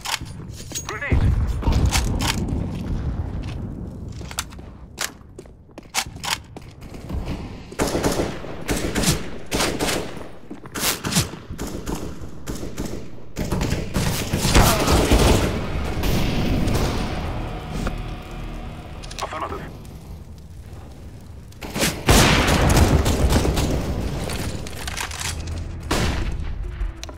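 In Counter-Strike: Global Offensive, grenade explosions and bursts of gunfire keep going in rapid, loud volleys, with booms and footsteps between them. Voices shout over the action.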